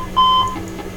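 A Dash 8 Q400 cockpit alarm sounds as a short, steady electronic tone lasting about a quarter second, loud and close over a constant low cabin hum.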